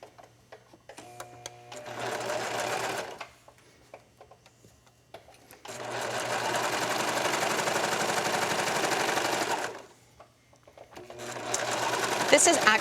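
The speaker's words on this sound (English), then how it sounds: "starting at the underarm, we're going to stitch down the side seam" A sewing machine stitches the side seam of a racer back knit top, running in three bursts of rapid, even whirring, the longest about four seconds, separated by short pauses.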